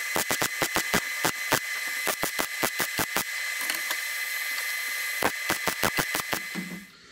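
A welder stitches up a car floor trough on a K5 Blazer with a series of short, sharp crackling bursts, then a steadier buzzing stretch, then more quick tack pulses, close and loud with no talking.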